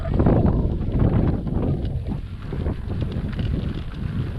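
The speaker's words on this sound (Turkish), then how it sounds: "Rüzgar biraz karşıdan esiyor." Steady headwind buffeting a microphone on a bicycle tour between Gerze and Kastamonu, a loud low rumble that swells and dips throughout with no voices.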